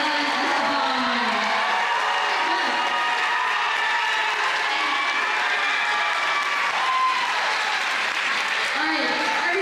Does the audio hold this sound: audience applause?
yes